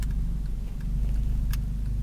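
Honda Civic FD with an R18 engine idling through a new muffler tip, a steady, deep, rumbly mid-range drone, close and continuous with a couple of faint clicks.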